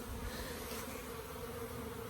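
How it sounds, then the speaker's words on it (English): Honey bees fly around the hives of an apiary on a day with pollen coming in, giving a dense, continuous buzzing drone that stays steady throughout. "the bees are absolutely flying like mad, which is lovely."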